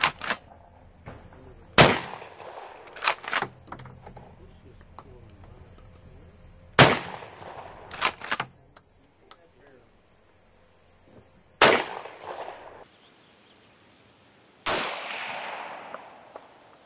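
A Benelli shotgun fitted with digital crosshairs fires several loud, sharp single blasts spaced a few seconds apart, each ringing out and decaying over a quiet outdoor background.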